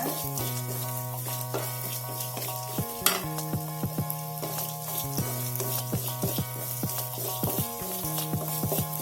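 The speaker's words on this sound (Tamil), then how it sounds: "இதில் தேங்காய் போடுறேன். இதை நல்லா வணக்குங்க." Grated coconut sautéing in a pan for karupatti paniyaram, a continuous close sizzle with repeated stirring scrapes and light utensil taps, steady and moderately loud throughout.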